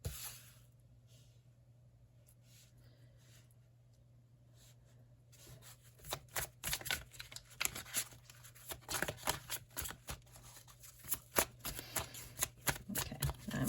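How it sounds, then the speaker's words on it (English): A deck of tarot cards is shuffled and cards are pulled from it, starting with quiet soft handling and then turning into a long run of dense, close riffling and sliding card noise, with no voice. "I'm going to take a second to pull out just a few more cards here"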